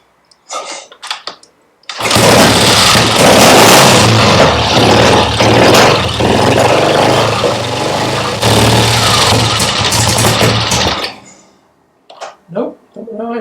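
A Pontiac Firebird engine, with freshly set points, turns over under the starter for about nine seconds in one loud, continuous churning burst, cutting off without settling into an idle; a few brief voices or noises before and after.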